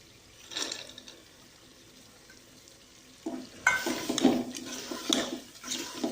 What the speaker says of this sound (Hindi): मसाले हमारे सारे फ्राई हो रहे हैं, हो चुके हैं। अब इसमें हम डालेंगे मटर,